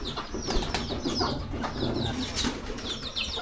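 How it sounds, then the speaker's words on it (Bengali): A brooding pigeon sitting on its eggs flaps and strikes with its wings in several quick bursts close by, with soft rustling and faint bird sounds between the flurries. "ক্যামেরাটা ডিমের কাছে নিয়ে যেতেই ডানা দিয়ে বাড়ি দিচ্ছে"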